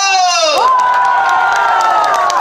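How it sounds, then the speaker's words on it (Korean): A festival crowd at an outdoor pumba stage show cheers and shouts loudly, with a long rising whoop and sustained crowd noise throughout, while faint clapping shows through the din. "이쪽 박수하고 함성"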